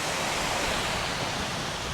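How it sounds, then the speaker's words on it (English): A waterfall beside a winter off-road mountain bike trail gives a steady, dense rushing roar that continues evenly throughout and is heard close, with nothing else over it. "at this waterfall."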